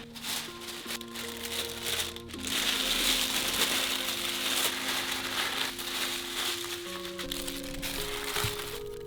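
Wrapping material is crushed and crinkled around glass while a small shelf is packed up, a steady close rustle over a faint sustained tonal background.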